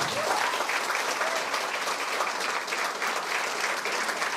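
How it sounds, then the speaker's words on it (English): Sustained audience applause at a pharmacy college event fills the whole span, a dense, steady wash of many hands clapping at even loudness without a break. "And a big round of applause."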